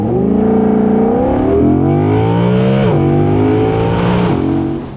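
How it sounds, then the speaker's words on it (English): A 2021 Audi R8 V10 engine revs hard and loud throughout, its pitch climbing in repeated surges with brief dips between gear changes, steady and close with no talking. "you have to really rev it to get the power out of it"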